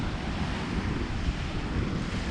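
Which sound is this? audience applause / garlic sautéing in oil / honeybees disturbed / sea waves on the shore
sea waves on the shore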